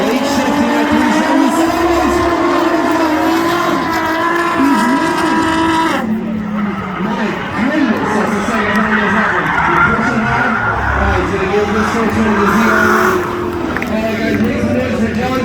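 Drag race cars launch at a spectator drag event at Freedom Factory, with a loud, close engine roar and tire noise under steady excited commentary and crowd chatter.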